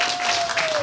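Steady broadband clapping from an audience at a Korean pumba performance, sustained and fairly loud for under a second, with a faint tone running underneath.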